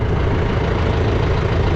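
A Mahindra 255 tractor engine idling in a farm field, a loud steady low rumble, close and continuous without talk.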